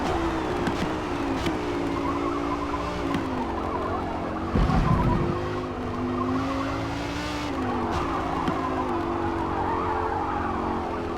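A Lamborghini R1-class race car in Forza Motorsport with rear tires breaking loose, squealing and skidding over a droning engine, with a brief louder burst in the middle and no talking.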